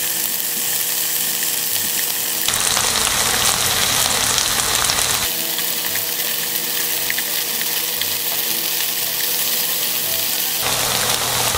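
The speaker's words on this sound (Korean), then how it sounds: "팬에 기름을 한 스푼 정도 두르고요. 달궈지면은 버섯을 이렇게 하나씩 올려서" Oyster mushrooms frying in a spoonful of hot oil in a pan, a steady loud sizzle that swells in bursts as pieces are laid in, with no talking.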